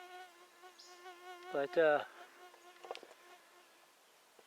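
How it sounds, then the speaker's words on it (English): A mosquito whines in flight close by in the woods, a thin steady buzz that lasts through the clip, with a brief voiced sound and a few soft clicks over it. "Got a mosquito flying around."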